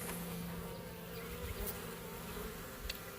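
Honeybees in a colony pursue their queen with a dense, faint buzzing that hums continuously.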